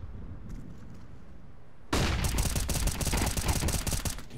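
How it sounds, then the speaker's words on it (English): Rapid rifle gunfire from an AK-style weapon in a competitive Counter-Strike match, bursting in suddenly after a quiet stretch and continuing as a dense, loud fusillade of cracking shots to the end. "He'll be finished off by Calix with the A1S as well"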